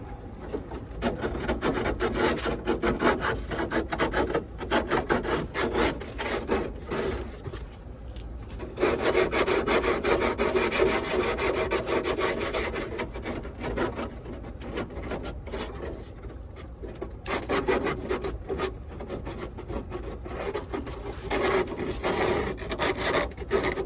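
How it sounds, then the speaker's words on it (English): Hand sanding with sandpaper around a ceiling opening while fitting a MaxxAir Deluxe roof fan, a steady close scratchy rubbing that continues in bursts with short pauses, with no voices. "I'm gonna sand around here. I am really making a mess."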